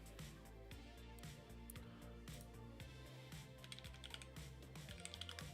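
Rapid clacking keystrokes from a custom mechanical keyboard with a carbon fiber plate, close and crisp, in an uneven typing rhythm with occasional louder key hits.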